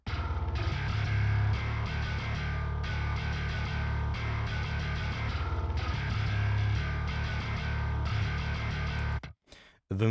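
A processed, distorted synth bass tone with gritty harmonics over a deep sub, played in sustained repeating notes, loud and alone before dropping out near the end.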